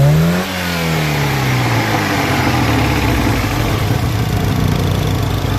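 An Opel Vectra engine with a faulty, smoking exhaust runs loud and steady, with an early drop in pitch as the revs fall, then a rough sustained drone throughout.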